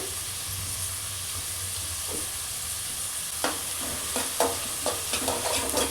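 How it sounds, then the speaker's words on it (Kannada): Ginger garlic paste frying in a pan for an egg keema, a steady close sizzle and hiss with scattered scraping stirs near the end. "ಇದ್ರ ಜೊತೆಗೇ ಕುಟ್ಟಿಟ್ಕೊಂಡಿರುವಂತಹ ಶುಂಠಿ ಬೆಳ್ಳುಳ್ಳಿ ಪೇಸ್ಟನ್ನು ಸಹ ಸೇರಿಸ್ಕೊತಾ ಇದ್ದೀನಿ"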